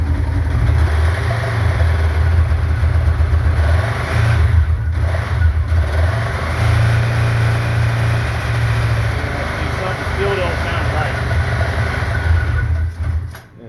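A 2013 Polaris RZR XP 900 UTV engine, recently rebuilt and running poorly, runs roughly with uneven revving, its low rumble wavering for several seconds before it sputters and cuts out at the end.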